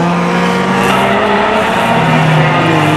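Closed-wheel race cars, including Hondas such as a CRX and a BMW, roar steadily around Mission Raceway as they brake hard into turn 1, a continuous loud engine drone with faint tire noise.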